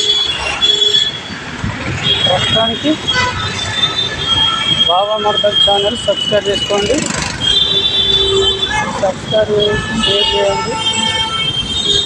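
Metro trains move through a busy metro station on a Saturday, a steady rumble with wheel squeal and high screeching tones, while someone talks throughout over the continuous train noise.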